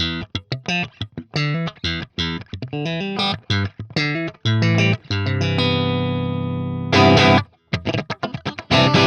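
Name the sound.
guitar amp plugin playing a clean default tone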